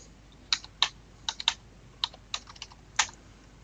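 Computer keyboard keys tapped in short irregular bursts, about a dozen crisp close clicks with brief pauses between, entering pedigree records, no talking.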